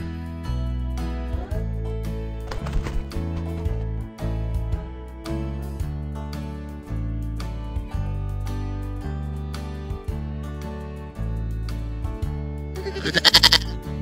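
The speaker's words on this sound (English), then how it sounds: "Goat." Bleating comes through over continuous background music, once briefly early on and again louder near the end, in a few wavering cries.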